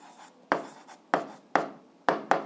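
An answer is written by hand as a sequence of about five short, crisp scratching strokes, close up and evenly spaced, with quiet gaps between them.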